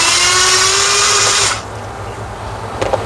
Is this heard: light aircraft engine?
no